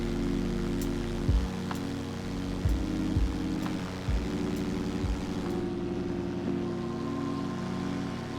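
A paramotor engine drones steadily in flight above the clouds at sunset, a loud, constant low hum with a few brief pulses and rushing wind, and no voices.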